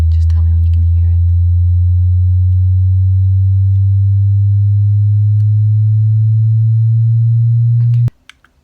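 A loud, steady low sine tone for a hearing test plays continuously, with faint whispery sounds at the start, then cuts off sharply, followed by a couple of small taps.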